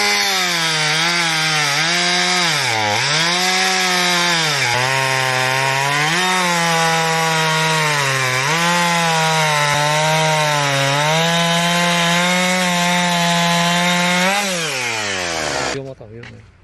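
Power saw cutting wood during a hydraulic log splitter test, a loud continuous whine that dips and rises in pitch as the blade loads and frees, running steadily for about fifteen seconds before spinning down.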